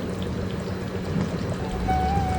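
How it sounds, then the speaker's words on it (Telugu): Water is poured steadily into a pan of masala prawn curry, producing a continuous close splashing stream that holds a constant level to the end. "కన్సిస్టెన్సీ బట్టి వాటర్ వేసుకోవాలి"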